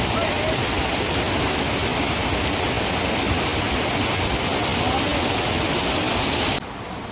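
A mountain river rushes in a dense, steady roar of flowing water, close and loud throughout, dropping slightly in level just before the end.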